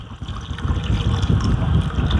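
Tamarind water poured into a pot of butter bean sambar, a close, continuous low gurgling splash that keeps a steady level throughout.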